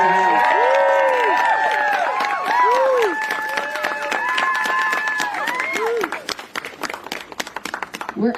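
A rally crowd breaks into applause and cheering for reporters, mixed with scattered shouts, while a voice keeps talking loudly over the clapping, which thins out toward the end.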